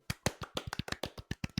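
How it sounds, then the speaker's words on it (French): A few people clap for a guest host at the launch of a podcast's third season, about a dozen sharp, fairly regular claps close by over under two seconds, with no talking. "Bruit d'applaudissements pour Jennifer d'Enfer!"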